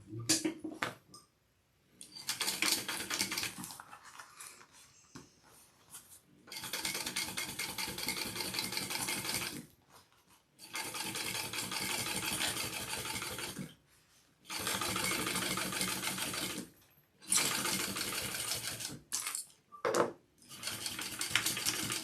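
A sewing machine top stitching through many stacked layers of a backpack, running in several long bursts of steady mechanical rattling separated by brief pauses, close and loud with no talk.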